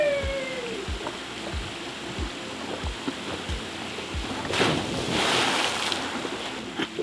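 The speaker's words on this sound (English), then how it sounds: "Gonna jump in the pool. There's a slide," Someone goes down a water slide into an outdoor pool: windy rushing and rhythmic thumps, then a loud splashy burst toward the end. No one speaks.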